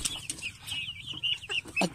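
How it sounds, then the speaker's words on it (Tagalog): Rhode Island Red chickens in a backyard flock give short, close clucks and chirps in quick irregular bursts over a low steady background hum. "Kung anong ginagawa sa akin ng manok ko."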